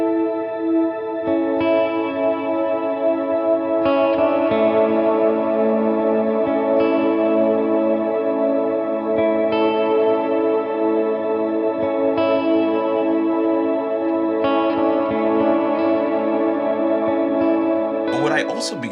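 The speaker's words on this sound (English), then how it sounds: "a lot of this ambient big reverb stuff" Sustained guitar chords drenched in lush shimmering reverb, swelling and overlapping into a continuous ambient wash with bright ringing overtones.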